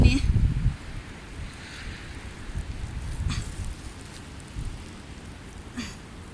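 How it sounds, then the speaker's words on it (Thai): Strong wind buffets the microphone at a seashore, opening with a loud rumbling gust and then easing into a gusty, roaring rush, with faint waves in the background. "ลมแรงมากเลย"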